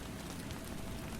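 Soft, steady rainfall patters on a surface at night, a faint, even hiss with no distinct drops standing out.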